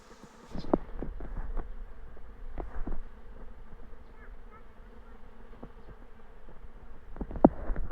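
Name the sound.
swarm of honeybees buzzing around tree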